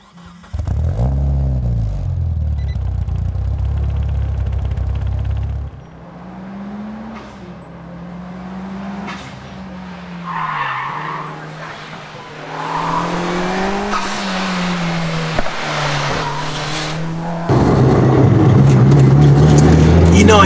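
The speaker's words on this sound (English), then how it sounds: "The differentials lock up and create this loud clattering sound." A lightweight Mitsubishi Lancer RS homologation model is driven hard, its engine rising and falling loudly with tire squeal, rough mechanical clatter from the locking differentials and a steady roar close by.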